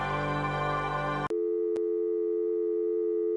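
A steady telephone tone in the Gabriel Knight: Sins of the Fathers video game, heard after a loud dense burst cuts off abruptly, continuing alone with a brief click partway through.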